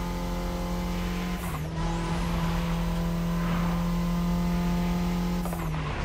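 A 638 hp Golf GTI in The Crew 3 video game drives hard through a city, its engine droning loudly and steadily with tire squeals and shifts in revs, close and continuous throughout.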